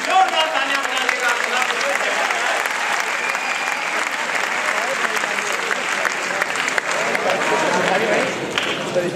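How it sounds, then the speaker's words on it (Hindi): Loud, sustained applause from a large audience at a Hindi kavi sammelan poetry gathering, a dense steady wash of clapping lasting the whole stretch with a few voices mixed in. "जोरदार तालियां बजाइएगा।"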